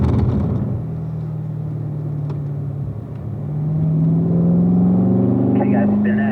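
A Corvette is driven on a race track, its engine a steady, loud drone heard from inside the car that rises in pitch as it gains speed, with someone talking over it.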